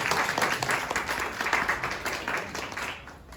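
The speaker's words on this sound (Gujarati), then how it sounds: "ઉષાબેનની સેવા માટે આભાર માની આપણે તાળી પાડીએ એમના માટે." Congregation applause at a Gujarati-language church sermon service, a dense, steady clapping from many hands that fills the room for several seconds, then thins out at the end.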